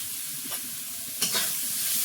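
Ground spices such as turmeric and cumin fry in a pan, a soft steady sizzle with two brief stirring scrapes, no talking.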